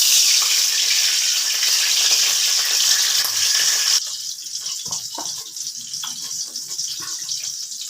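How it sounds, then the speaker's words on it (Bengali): A splash of water hits a hot pan with cumin seeds, setting off a loud, close hiss that drops abruptly after a few seconds into quieter bubbling and crackling. "দিয়ে দিচ্ছি সামান্য একটু জল।"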